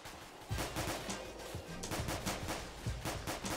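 Sustained machine gun fire in the ArmA 2 combat game: dense, rapid bursts of shots rattle steadily and loudly throughout, with no talking.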